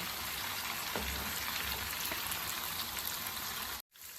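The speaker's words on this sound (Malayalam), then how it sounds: "നമുക്ക് ഇത് ഫ്രൈ ചെയ്തെടുക്കുക" Prawns frying in hot oil in a pan for Kerala prawn biryani, giving a steady, dense sizzle close up that runs continuously and then cuts off abruptly near the end, with no talking.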